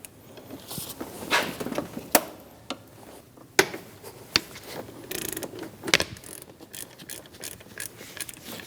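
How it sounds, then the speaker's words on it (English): A ratchet with a 22mm socket breaks loose the crankshaft bolt on a 2005-2009 Subaru Legacy during timing belt work: irregular loud metallic clicks and sharp clunks, close up, with brief ratcheting bursts between pauses. "Break the crank bolt free."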